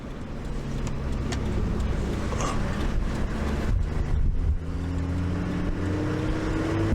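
A vehicle driving on an outback road between Daly Waters and Larrimah, heard from inside as a steady, loud engine and road rumble with wind buffeting, constant throughout.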